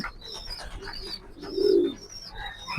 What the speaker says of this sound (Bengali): আমি আজকে একজোড়া রেসর কবুতর দেখাবো মাক্সি